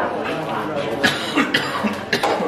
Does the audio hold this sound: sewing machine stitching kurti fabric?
no